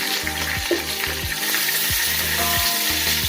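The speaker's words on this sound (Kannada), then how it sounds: "ಈಗ ಇದನ್ನ 1-2 ಸೆಕೆಂಡ್ ಫ್ರೈ ಮಾಡ್ಕೊತೀನಿ. ಹಸಿಮೆಣಸಿನ್ಕಾಯಿ ಹಾಕ್ಕೊತಾ ಇದ್ದೀನಿ." Green chillies fry briefly in hot oil with bay leaf and stone flower for village-style chicken liver and gizzard rice, giving a loud, continuous sizzle with regular rhythmic scraping or clicking underneath.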